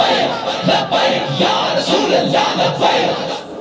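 Large crowd loudly chanting the religious slogan Tajdar-e-Khatm-e-Nabuwwat at a rally, massed voices rising and falling in rhythmic repeated waves, close and dense, with no single speaker standing out.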